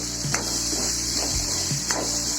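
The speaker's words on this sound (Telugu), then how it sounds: "రెండు నిమిషాలు అలా ఫ్రై చేసుకుంటూ మగ్గించాలి" Tomato, onion, green chilli and curry leaves stir-fried in a pan for aloo and bean curry: steady close sizzling with a few spoon scrapes and stirs, no talking.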